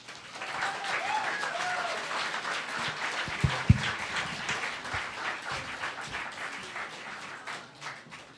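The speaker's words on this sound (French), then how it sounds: "Merci de l'accueillir avec beaucoup d'applaudissements." Warm applause from an evening audience welcoming speaker Sarah Lachance, a steady wash of many hands clapping for about eight seconds with a few sharper nearby claps and faint cheers mixed in.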